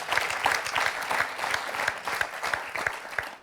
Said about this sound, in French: On peut applaudir André